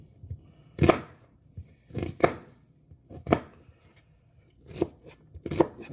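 A knife chops an onion on a board for gumbo, about seven crisp, irregular cuts spread out with short pauses between them, close and fairly quiet, no voices.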